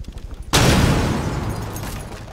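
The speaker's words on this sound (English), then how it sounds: "Using a flashbang." A flashbang grenade in Rainbow Six Siege goes off with a single loud, close blast. Its harsh, noisy roar decays slowly over the next two seconds.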